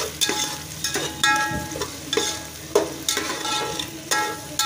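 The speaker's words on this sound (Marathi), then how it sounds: "आता ही ढबू मिरची परतून घ्यायची." Capsicum (bell pepper) sautéed in a pan over high heat for pav bhaji, with a steady sizzle and rhythmic scraping stirs recurring about every half second, close and clear with no talking.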